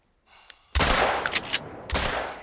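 Shotgun loaded with buckshot fired at a fallow deer in the hunting game theHunter: Call of the Wild, heard as two loud, close blasts roughly a second apart, each followed by a decaying rumble.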